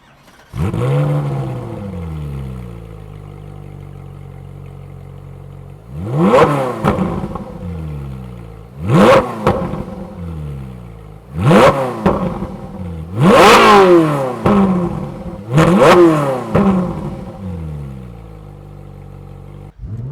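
A red Ferrari's engine fires up with a key and settles into a steady idle, then gets blipped through five sharp, loud revs spaced a few seconds apart, each rising and falling back to idle, close by with no talking.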